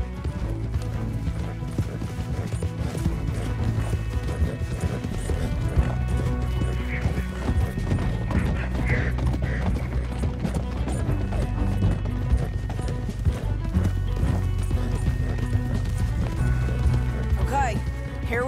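Horses galloping with steady clip-clop hoofbeats and occasional whinnies in the Western video game Red Dead Redemption 2, under ongoing character dialogue and background music.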